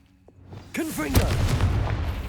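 A Confringo fire spell in Hogwarts Legacy goes off in a single deep boom with a crackling burst, following a short spoken incantation.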